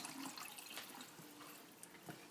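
Water streams steadily into a cooking pot, a continuous splashing pour of about two cups at close range, with no voices.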